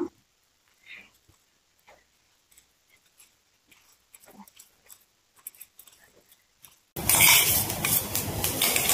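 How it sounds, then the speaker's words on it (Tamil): Basmati rice and carrot sautéing in oil in a pan: a few soft utensil clicks and taps over near silence, then a sudden loud, hissing sizzle for the final couple of seconds. "இதையும் நல்லா எண்ணெயிலே வந்து வதக்கிக்கலாம்."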